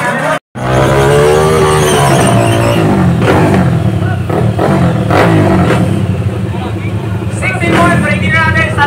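Drag racing cars at a legal street race accelerate hard with loud, close engine roars and rising revs after a brief dropout, with a commentator's voice talking over them.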